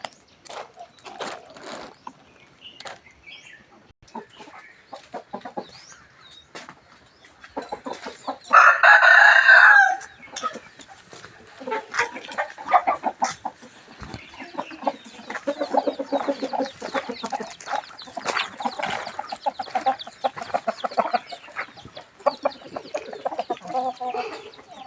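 Roosters crow loudly among clucking chickens in the grounds of Wat Pong Chai temple in Chae Hom, Lampang, one long close crow standing out amid a steady scatter of clucks and bird calls.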